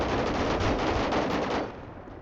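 Rapid gunfire from a pistol in the game FiveM rattles in a dense, loud burst of repeated shots, then cuts to a quieter tail, with no talking.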